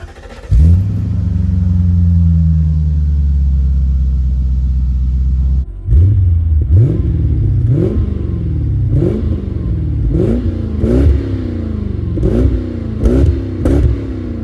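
A Lexus SC400 starts off with a low steady engine rumble, then pulls away through a series of rising revs and gear changes, loud and close throughout with no voices.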